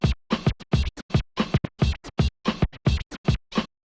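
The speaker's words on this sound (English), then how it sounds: "the fundamentals to it is still forward scratches" A DJ cuts a record on a turntable with fast forward scratches, a rapid run of about twenty short, sharp, rhythmic scratch bursts with brief silences between them, loud and close with no talk.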